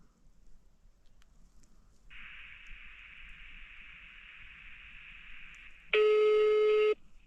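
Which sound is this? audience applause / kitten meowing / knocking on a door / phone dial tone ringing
phone dial tone ringing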